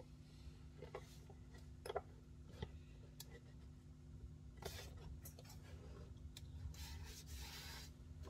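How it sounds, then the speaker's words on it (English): Faint, close rubbing and light scrapes come from a cloth wiping glue off the varnished body of a 1934 A.E. Smith violin under repair. The strokes are soft and irregular, with a few sharper ticks, in a quiet room. "Just wiping a bit of the glue off so that it doesn't affect the varnish."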